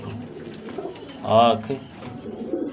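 Soft cooing of parwaazi pigeons close by, a short rolling coo rising above a low murmur, with someone talking over it.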